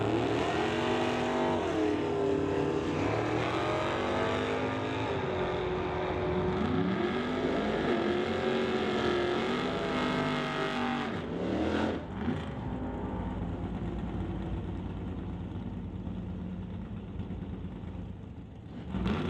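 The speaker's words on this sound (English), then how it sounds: "That's a 1970 Duster with a 451 cubic inch big block for power." A 1970 Duster drag car with a 451 cubic inch big block roars loud and close at an NHRA divisional event at Mission Raceway, its engine howling and shifting pitch under steady strain before easing off near the end.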